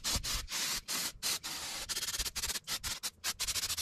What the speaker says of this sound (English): we'll finish it up with a little brake cleaner